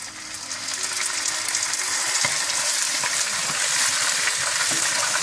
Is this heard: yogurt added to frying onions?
yes